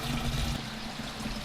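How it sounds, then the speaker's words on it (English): Spring water flows from a roadside spring into a container, a soft, steady trickle and pour heard faintly and alone. "I'm just filling up some spring water. It's off the side of the road here."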